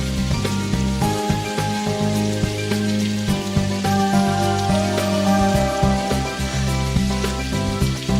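Rain falls on a town in the video game Symphonic Rain, a dense steady patter and hiss layered over soft sustained music tones, continuous throughout with no voices.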